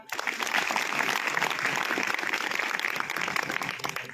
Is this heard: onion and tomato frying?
no